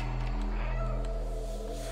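Cat meow from the video game Stray, a drawn-out tonal call rising over a steady low hum of game ambience, close and clear with no talking.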